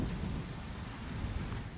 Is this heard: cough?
no